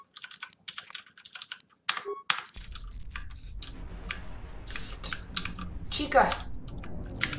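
Arrow keys on a computer keyboard clatter during PC gameplay, with quick bursts of close, sharp clicks that grow busier and more continuous. A man briefly calls out over the tapping.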